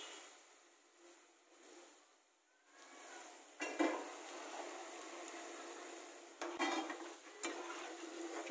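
Fried cauliflower Gobi 65 is served from a pan onto a plate, with soft scraping and a few sharp metallic clinks and clatters of a utensil against cookware, close over a faint hiss.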